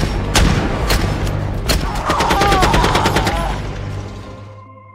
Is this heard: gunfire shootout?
yes